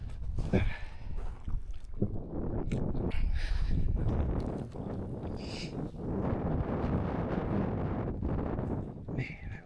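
Strong wind buffets the microphone outdoors on a fishing trip after a rare snowstorm in Charleston, South Carolina, with loud, gusty roaring bursts that rise and fall throughout.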